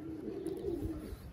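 Soft, low pigeon cooing rolls steadily through the short clip from a pigeon loft, muffled and fairly quiet against a faint background hum.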